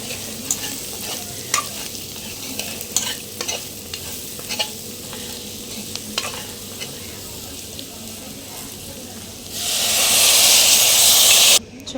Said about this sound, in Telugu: ఇప్పుడు మిక్స్ చేసుకుని వాటర్ పోసేసుకుందాం